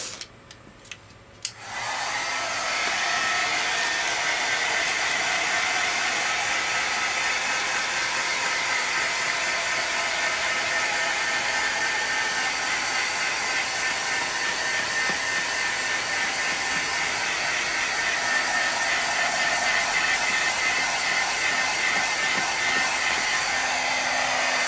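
A hair dryer runs loud and steady for over twenty seconds, blowing to dry wet paint on a big sheet of paper, with a few faint knocks just before the airflow begins.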